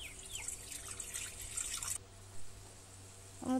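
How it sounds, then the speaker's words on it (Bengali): Water is poured from a pan into a potato and fish curry in a village kitchen, a close, soft splashing and trickling stream that stops abruptly partway through, followed by quiet and a brief clink. "আমি দিয়ে দেবো পরিমাণ মতো জল।"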